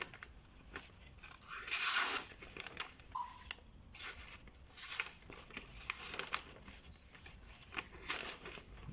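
A Ganzo G6252 folding knife slices through white printing paper, giving soft crisp tearing and rasping cuts, one louder stroke then several quieter intermittent strokes, close and faint overall with no talk.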